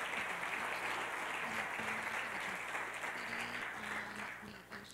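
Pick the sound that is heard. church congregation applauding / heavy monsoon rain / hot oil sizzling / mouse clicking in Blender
church congregation applauding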